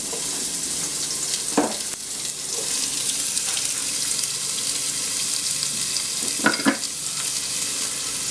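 Vegetables tossed into a hot pan with flour for a beer and cheese soup, giving a steady close sizzle and frying hiss with two brief stirring clatters.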